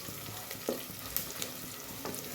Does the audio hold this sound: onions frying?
yes